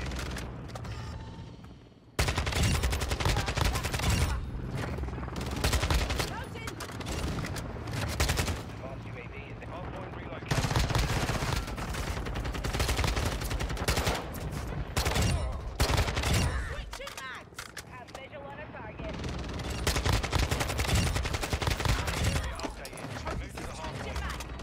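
Gunfire in the video game Modern Warfare 2 with a Kastov-74U rifle, loud sustained bursts of rapid automatic fire almost throughout, broken by brief pauses, with a player's voice talking under the shooting.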